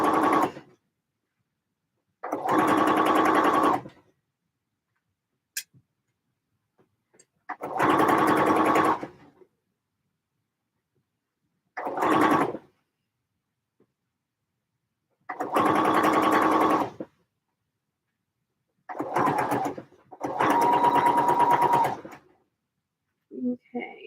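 A domestic sewing machine stitches seams in bursts of several seconds, its whirring motor starting and stopping repeatedly with quiet gaps between runs.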